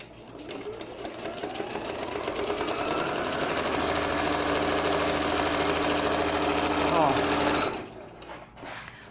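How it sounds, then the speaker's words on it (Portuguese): Sewing machine stitching through a sheet of paper, a rapid continuous mechanical rattle that builds up, runs steadily for several seconds, then stops, with someone talking over it. "vou costurar aqui esse papel para mostrar para vocês"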